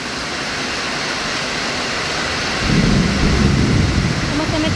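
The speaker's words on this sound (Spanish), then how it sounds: "está lloviendo" Heavy rain pours down as a steady loud wash of noise, deepening into a low rumble of thunder partway through that continues to the end.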